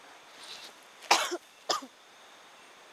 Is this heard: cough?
yes